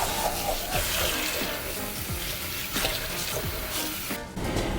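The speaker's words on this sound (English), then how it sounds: "Wash my hands." Hands washed under a running kitchen tap while preparing a leek carbonara bake, a steady close splashing stream of water with no talk.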